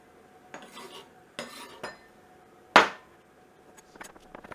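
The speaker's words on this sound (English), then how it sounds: "The green onions, we're just doing a little bias cut on." A knife strikes a cutting board a few times while green onions are sliced on the bias, giving several sharp, separate knocks with one loud crisp chop near the middle, close up in a quiet kitchen.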